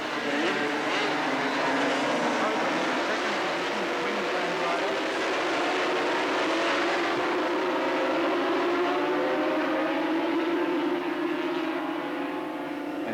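250cc Grand Prix racing motorcycles roar away from the start beneath the Hardy Bridge at Bathurst in 1983, a loud, continuous multi-engine drone with overlapping revving pitches, heard alongside commentary.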